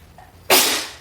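A single loud, close sneeze bursts out about halfway through, a sharp broadband blast that slowly tails off, preceded by a brief faint breathy intake.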